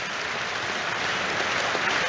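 Stadium crowd at a Liverpool versus Rangers Champions League match applauding Trent Alexander-Arnold as he goes to take a corner, a broad, steady wash of clapping from a large crowd that continues unbroken.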